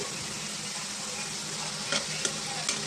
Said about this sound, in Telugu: ఒక నాలుగైదు ముక్కలు వేసుకొని మనం కొంచెం ఫ్రై చేసుకున్నాం కొంచెం ఆయిల్లోనే ఫ్రై చేసుకున్నామండి